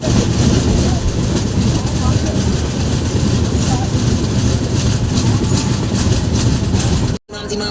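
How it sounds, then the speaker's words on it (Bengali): The Tamralipta Express from Howrah pulls into Digha station with a loud, close, continuous rumble of wheels and carriages that never lets up, then cuts off abruptly just before the end. "আমাদের ট্রেন এবার দীঘা ঢুকছে"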